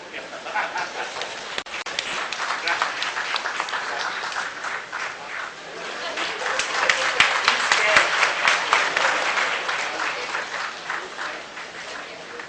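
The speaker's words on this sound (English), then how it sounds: "A huge round of applause is this great personality." A large conference audience at an international dental congress breaks into sustained applause, dense clapping that swells and holds steady throughout, loud and continuous with faint crowd murmur beneath.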